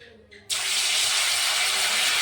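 White oil heated in a kadai on a stove for homemade chanachur erupts into a sudden loud sizzle after a brief quieter moment, then keeps up a steady, dense frying hiss close by.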